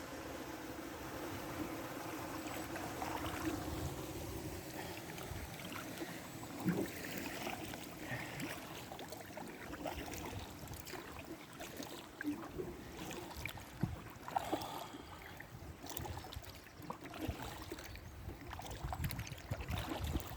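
Continuous rushing water from a rapid on the River Wye between Hereford and Hoarwithy, a steady broad roar with occasional splashes, heard from close by.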